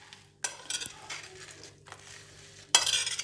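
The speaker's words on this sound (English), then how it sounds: "Just sprinkle the salt and mix it only." Air-fried nuts and seeds stirred with a sprinkle of salt, giving a few bursts of scraping, rattling clatter against a bowl, with quiet pauses between and a louder final stir.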